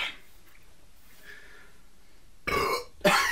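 After a drink of ginger lemonade, two loud burps follow a stretch of quiet, each short and close, the second one gruffer.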